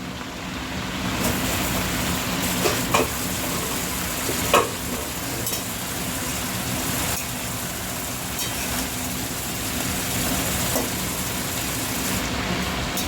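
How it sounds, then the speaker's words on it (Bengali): Bottle gourd greens sizzling steadily in a pan as they are stirred, with a continuous frying hiss and occasional scraping of the spatula, no talk. "শাকটাকে একটুখানি নাড়তে থাকি।"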